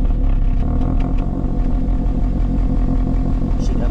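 A car engine idling at about 1000 rpm with a sputtering, uneven exhaust, a loud close rumble with irregular pulsing and light clattering throughout.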